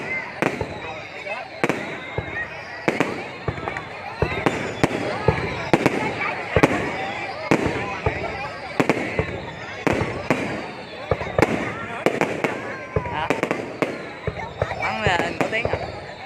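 New Year's Eve fireworks over Ho Chi Minh City for 2021, a long run of sharp bursts and crackles going off one after another at an uneven pace, loud and near, with voices chattering underneath.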